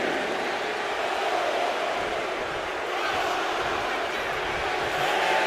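A wrestling arena crowd in the WWE 2K25 video game, a steady, loud wash of roaring and cheering with no breaks, sustained throughout.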